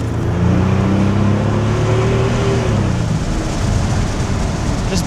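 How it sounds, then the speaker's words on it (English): Turbo V12 Mercedes engine revving loud and close at half throttle, a rising harmonic drone for a few seconds with tires spinning, settling into broadband road roar. "Just barely stepping on it, like that was like half throttle, and we got the tires to spin."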